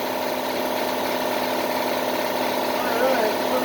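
Old air compressor running steadily in a workshop, a continuous droning hum with a mechanical rumble that holds at an even level throughout, loud and close.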